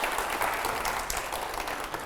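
A studio audience at a TV9 news debate applauding, a dense steady clatter of many hands clapping for the full stretch.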